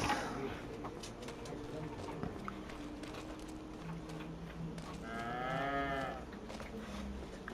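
Dairy cows in the video game Farming Simulator 25 low and moo steadily in a farmyard, one clear drawn-out moo rising over the bed of animal noise, with faint bird cooing nearby.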